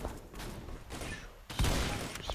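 Shotgun blasts in the mobile shooter Special Forces Group 2, a few loud sharp reports with one heavy shot near the middle, set against steady game noise and ambience.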